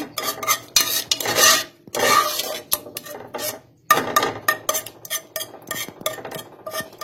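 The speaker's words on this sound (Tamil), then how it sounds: "கரண்டியில் இந்த மாதிரி மசிச்சு விட்டாலே போதும்." Cooked lentils being mashed with a ladle in a pot, a series of irregular scraping, rasping strokes and soft knocks against the metal, close and fairly loud, with brief pauses between bursts.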